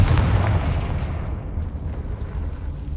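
A Confringo fire spell goes off in Hogwarts Legacy as a heavy, loud explosive blast whose deep rumble fades slowly over a few seconds.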